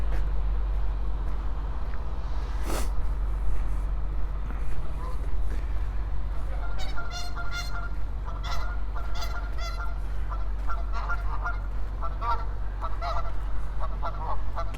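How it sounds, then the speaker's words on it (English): Geese honking repeatedly at moderate distance, a chorus of nasal calls over a steady low rumble of background noise. "Geese having something to say."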